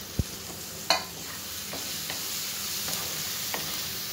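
Curry leaves and garlic fry in a pan with a steady close sizzle, broken by a few sharp utensil clicks and knocks.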